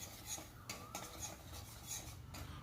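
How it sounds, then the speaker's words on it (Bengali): Semolina being fried and stirred in ghee for sweet semolina halwa: quiet scraping and clinking of a spoon against the pan in irregular strokes, close but faint, with no talk. "ওই ঘিয়ের মধ্যে আমি সুজিটা দিয়ে দিচ্ছি। সুজিটাকে আমি একটু ভালো করে ভেজে নেব।"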